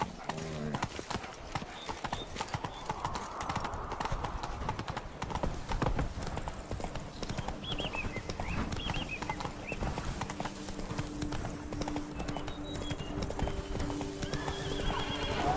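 A horse gallops with rapid, steady hoofbeats in The Witcher 3, loud and close, with a whinny partway through and game sounds and brief speech mixed in.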